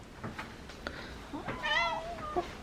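A cat meows once, a rising, wavering cry up close, with faint rustling and small noises around it.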